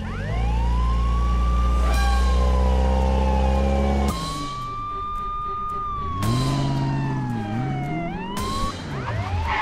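A loud emergency siren wails nearby, sweeping up and down in long rising and falling tones over a low engine rumble.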